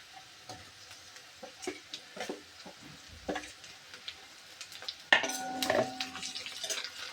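Green chilies and onion sauté in a pan for a wild kuda-flower vegetable dish: soft intermittent sizzling with scattered spatula clicks and scrapes, growing busier and louder toward the end.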